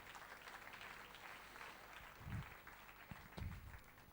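Church congregation applauding, a broad, steady wash of clapping that swells in places and carries on for several seconds without voices.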